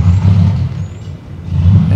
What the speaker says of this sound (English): what a piece of crap old car